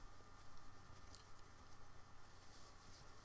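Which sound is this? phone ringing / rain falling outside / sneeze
rain falling outside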